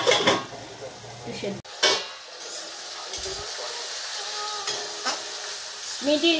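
Kochu stolons fry with green chillies in a pan while being stirred, giving a steady sizzle under scraping utensil strokes and clinks against the pan, with a voice briefly speaking at the start and end.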